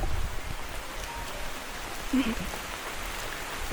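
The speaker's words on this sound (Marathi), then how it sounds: "गावी आल्यापासून तीन दिवस वारा पाऊस कंटिन्यू चालूच आहे" Steady wind-driven rain hisses down on surfaces in a village in a continuous wash of noise, with a brief faint voice-like sound partway through.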